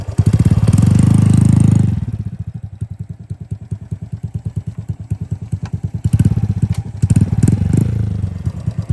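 A motorcycle with a loud, throaty aftermarket RAN exhaust revs up briefly, drops to a rapid popping idle, then revs again, close by and alone.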